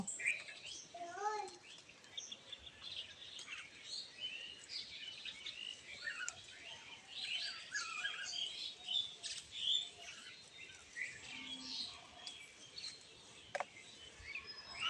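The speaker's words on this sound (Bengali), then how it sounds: "আর এই পাখির আওয়াজ" Scattered bird chirps and tweets at a distance, soft and intermittent over a quiet outdoor background with faint patter of water dripping from trees after rain.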